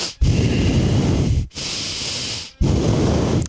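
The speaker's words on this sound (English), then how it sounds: "it also picks up breathing sounds" Close, loud breathing into a microphone: three long airy breaths in sequence, each a sustained hissing rush of air separated by brief silent gaps, with no speech.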